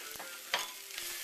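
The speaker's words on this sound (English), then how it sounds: "Now that we've been frying our onion, garlic and ginger under medium heat" Onion, garlic and ginger sizzle and crackle in a hot pan over medium heat for rogan josh, a steady frying hiss with a few sharper pops and stirring scrapes.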